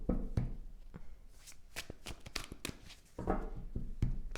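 Tarot cards being shuffled by hand, a run of crisp riffling flicks and soft slaps with brief pauses, close and clear with no talking.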